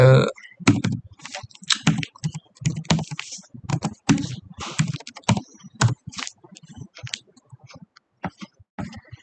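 Someone types a Google search on a computer keyboard. Fast, crisp key clicks come in close, irregular bursts throughout, with brief pauses between words.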